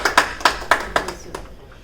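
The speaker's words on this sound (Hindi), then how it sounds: "एक बार आप सब जोरदार तालियां बजाएं उनके बेहतरीन गीत के लिए" Audience clapping at a Republic Day kavya goshti poetry evening after a performer's song: about half a dozen sharp, evenly spaced claps from a small group, fading out near the end.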